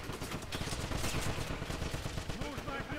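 Gunfire in the Wolfenstein video game: rapid bursts of automatic weapon fire crackle continuously in a busy firefight, with shouted voices mixed into the din.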